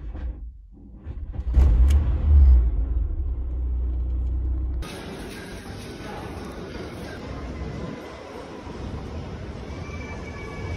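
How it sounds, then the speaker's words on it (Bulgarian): A car engine turns over and runs at a rough, low idle, its rumble loud at first and then dropping to a steadier drone as the cabin sound shifts, with voices chattering faintly. "Нека палим колата и да тръгваме."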